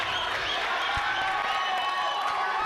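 A crowd applauding and cheering at a padel match in the Sri Lanka Padel League, steady clapping spread across the stands, with a ball thud and some murmuring voices underneath.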